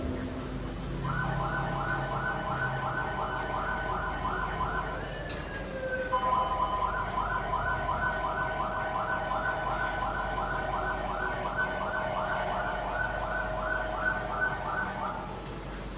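A fire engine siren wails in rapid rising and falling cycles, fairly distant, briefly shifting tone midway before resuming over a low background rumble.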